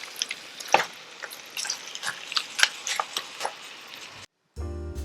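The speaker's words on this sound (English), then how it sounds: "I'm also using the potato peeler to make some people happy." Raw potato peeled by hand with a potato peeler, a string of soft scraping strokes at close range, irregular and fairly quiet, stopping briefly near the end before a low rumble follows.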